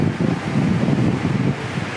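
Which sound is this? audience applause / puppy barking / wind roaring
wind roaring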